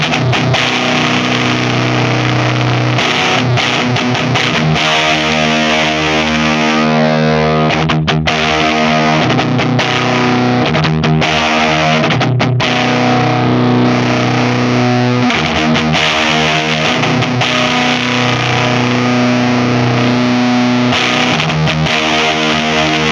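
An electric guitar runs through a Boss HM-2 heavy, buzzing distortion pedal with gain being swept, strummed chords ringing out with brief pauses between phrases, loud and close.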